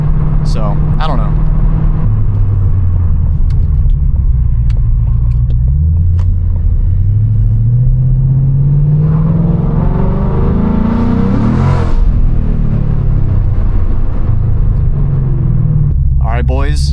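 A straight-piped Mustang GT with a 10-speed transmission in paddle shift mode revs and pulls through gears while driving, a loud, close, continuous exhaust roar rising and falling with each shift, with no talk.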